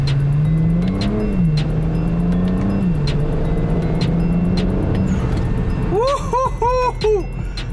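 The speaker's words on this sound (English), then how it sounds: "Watch how fast the shifts are with the XHP transmission flash" BMW 335i with an XHP transmission flash accelerating hard, a loud engine note climbing and dropping sharply at each quick gearshift, with a sustained tone underneath and a short burst of rapid shifts near the end.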